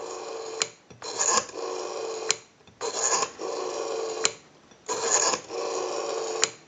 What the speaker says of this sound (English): We have a nice smooth return on our rotary.